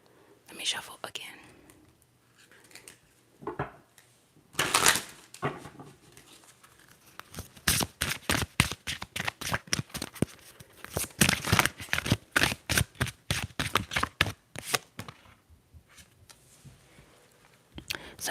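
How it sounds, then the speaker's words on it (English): Tarot cards being shuffled nearby: scattered soft rustles, then a long run of rapid, crisp flicking riffles before it quiets again. "Let me shuffle again."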